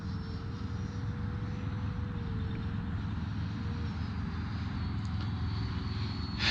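An E-Flite Viper 70mm electric ducted-fan RC jet flies overhead, giving a steady, unbroken rush of airflow with a thin, high whine that slowly shifts in pitch. It holds at a constant loudness throughout, with no talking.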